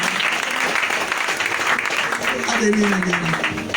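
A church congregation at a service claps and cheers in a loud, dense burst of applause mixed with shouting voices, with a voice sounding near the end.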